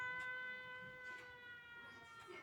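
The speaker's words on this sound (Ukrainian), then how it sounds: "Повітряна тривога" An air raid alert siren sounds faintly in the distance, a sustained wailing tone with steady harmonics. A few soft clicks and indoor noises sit underneath it.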